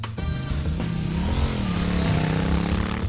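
A KTM Duke 790 with its LT8C parallel-twin engine while riding, a steady droning engine note with a slight rise in pitch, heard close over wind rush.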